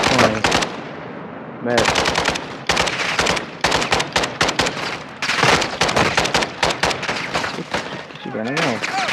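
Gunfire in the video game Call of Duty Modern Warfare 2: loud bursts of automatic fire with sharp single shots and brief gaps, and a voice speaks over part of it.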